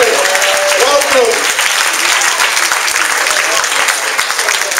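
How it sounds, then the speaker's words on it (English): An audience at a surprise birthday event claps together in a loud, sustained round of applause, with a voice briefly heard over the clapping at the start. "let's give ourselves a round of applause. Come on, keep clapping,"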